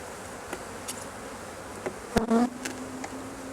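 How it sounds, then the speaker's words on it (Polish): Honeybees buzz faintly around the microphone near their hive, with a few brief passes and one louder, closer drone near the middle. "zobacz ile tam jest pszczół"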